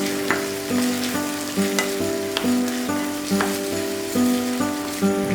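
Onions frying with salt in a pan give a steady, dense sizzle with soft crackles and occasional stirring scrapes, close and continuous.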